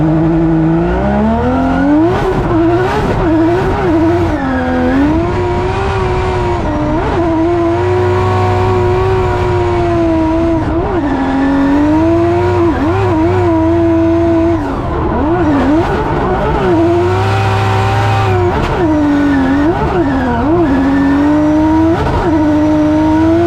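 A Formula Drift car on a qualifying lap at Orlando roars loud and close, its engine rising and falling through repeated revs with tire squeal over about twenty seconds.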